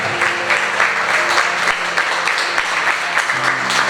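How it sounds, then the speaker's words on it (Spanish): Loud, sustained applause from a church congregation at a ninth-anniversary service, dense clapping filling the room nearly alone, with faint tonal background sound underneath. "les felicito y aplauso a ustedes, iglesia"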